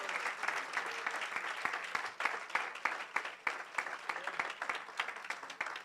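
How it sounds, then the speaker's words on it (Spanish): A church congregation applauds during a Spanish-language service, with dense, steady clapping from many hands throughout and faint voices underneath. "Él merece un fuerte aplauso en esta mañana."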